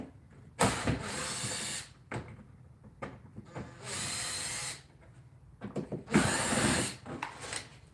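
A cordless power drill backs out screws on a boat throttle in several whirring bursts, some long and some short, with quiet pauses and handling noises between runs, close by.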